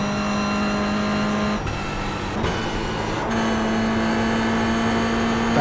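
Race car engine in the iRacing simulator pulling hard under acceleration, a loud steady drone with a sustained tone that dips briefly, then climbs and holds again, close and continuous with no talking.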